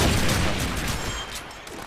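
Grenade blast in a competitive shooter match, a dense, loud rush of explosive noise that slowly fades while scattered gunfire pops continue.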